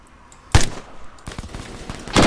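Gunfire in ArmA 3 cracks out as a sharp, loud shot, then a spatter of quieter distant rounds and another close burst, in the middle of an infantry platoon firefight.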